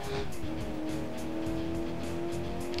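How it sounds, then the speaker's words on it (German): In the video game Alarm für Cobra 11 Highway Nights, a car engine drones steadily while tires squeal in a long, continuous drift, loud and close throughout. "Alter! Die Karre driftet so geil!"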